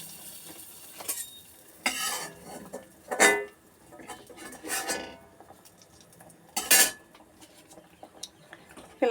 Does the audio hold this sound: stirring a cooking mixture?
yes